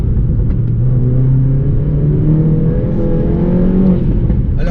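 A modified stage 2 Mini Coupe JCW with a 1-litre turbo and 280 horsepower accelerates hard. Its loud, close exhaust drone rises steadily in pitch through the pull.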